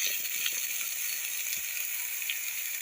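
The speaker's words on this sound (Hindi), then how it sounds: "अब आलू को हमें 3 से 4 मिनट तक लो फ्लेम पे अच्छी तरह से भून लेनी है" Boiled potatoes with turmeric and chili fry in a pan over a low flame, giving a steady soft sizzle with faint crackles and occasional light scrapes, no voices.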